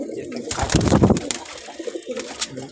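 Pigeons coo in a loft, several soft throaty calls repeating close by, with a louder burst of cooing and wing flutter in the middle and quieter calls toward the end.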